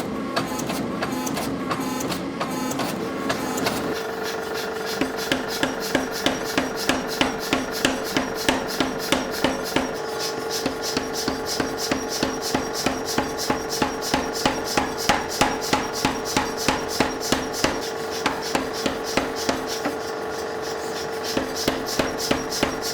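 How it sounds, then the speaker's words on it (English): Steel bar being squared up under steady hammer blows before forging an axe drift, a rapid, even rhythm of ringing metallic strikes continuing throughout, loud and close with no talk. "before I start forging the piece of steel into the shape of a drift, I need to first square it up slightly"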